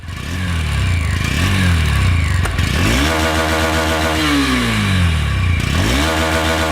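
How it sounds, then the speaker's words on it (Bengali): A Honda Hornet 2.0 motorcycle engine fires up and runs close by, rising revs that swoop up and fall back in several blips before settling into an even idle, loud and with no talk. "চলুন আমরা বাইকটি স্টার্ট করে দেখি বাইকটির সাউন্ড আসলে কেমন।"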